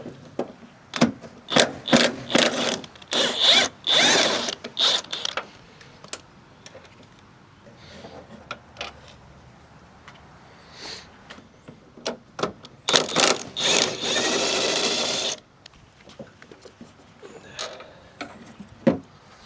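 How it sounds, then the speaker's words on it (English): Half-inch ratchet loosening bolts on a Fiat 500 1.4 MultiAir outdoors, with rapid clicking bursts of ratcheting separated by pauses, and a longer steady whirring stretch later on. "So I'm going to take them off with my 1/2 inch."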